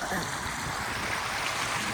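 Stream water flowing steadily near Huluganga Falls in Sri Lanka, a continuous broadband rush that stays loud and even throughout with no clear breaks.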